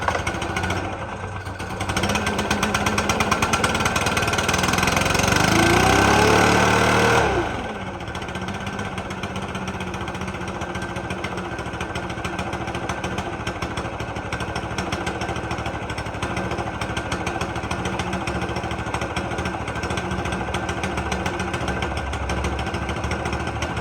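A Stihl BR600 backpack blower's two-stroke engine revs up hard to a loud whine for a few seconds, then drops back to a steady, buzzing idle that carries on close by.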